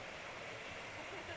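A waterfall near Pai, Thailand, makes a steady, dense rush of falling water that fills the brief moment evenly.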